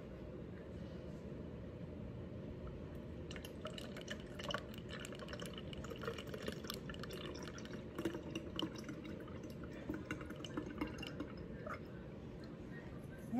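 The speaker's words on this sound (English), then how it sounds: "And we're just gonna pour in here." Liquid hand sanitizer pours steadily into a bottle with faint gurgling and dripping, a low continuous trickle, quiet and close.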